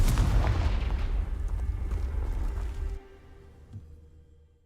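A Confringo fire spell explodes in the Hogwarts Legacy video game: a loud, dense burst of booming, crackling blast noise that rolls on for about three seconds, then cuts to a low fading rumble with a faint thump.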